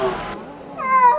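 Rescued former street cats indoors, one giving a clear, rising meow near the microphone at the end, after a brief rustle and muffled household noise.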